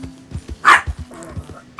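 A dog in Red Dead Redemption 2 barks in short sharp yips and a louder bark, close and intermittent, with soft thuds and game sounds around it.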